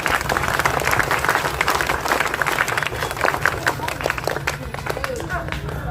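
An audience at an Independence Day school event in Bangalore claps for scientists: dense, sustained applause from a crowd, fairly loud and close, with a voice speaking over it and some chatter mixed in.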